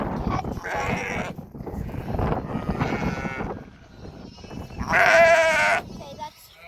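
Sheep on a small farm bleat in several bursts, the loudest cry near the end, while people talk nearby and other farm sounds go on behind.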